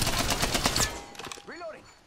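Gunfire in Apex Legends: a rapid burst of close, loud shots rattles for about a second, then tapers into scattered fainter shots with a brief voice call.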